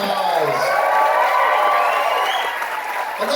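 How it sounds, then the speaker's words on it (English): A crowd at a Stranger Things convention panel on a fan cruise bursts into sustained applause with cheers and whoops, loud and dense throughout, filling the room. "Let's give our cruise host a big round of applause."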